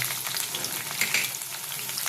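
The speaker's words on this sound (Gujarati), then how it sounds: "તેલ થઈ જાય એટલે એમાં આપણે જીરાનો વઘાર કરીશું" Cumin, sesame seeds and green chillies tempering in 3 to 4 spoons of hot oil before corn pulp goes in, a soft continuous crackle and sizzle, fairly faint, no talking.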